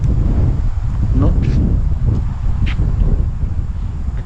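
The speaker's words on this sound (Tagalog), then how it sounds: "Kabigad yung hangin ah." Strong wind in open highland landscape in Dahilayan, Manolo Fortich, Bukidnon roars and buffets the microphone continuously, a heavy rumbling gust that never lets up.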